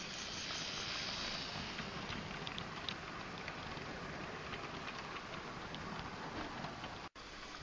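Model steam locomotive hauling a light train, a steady faint rumbling clatter of wheels on track running continuously, with a brief dropout near the end.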